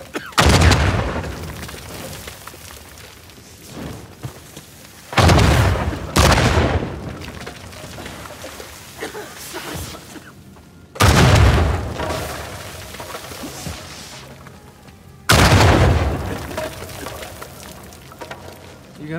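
Big explosions in Uncharted 4 A Thief's End, four loud booms spaced a few seconds apart, each a sharp blast that rolls off into a long rumbling decay.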